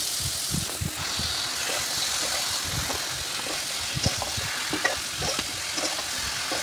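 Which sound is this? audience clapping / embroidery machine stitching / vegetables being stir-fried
vegetables being stir-fried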